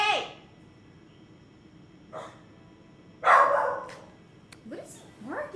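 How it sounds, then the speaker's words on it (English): A dog barks indoors in short bursts spread over several seconds, one loud sharp bark in the middle and fainter yips around it, set against a quiet room. "What is he barking at?"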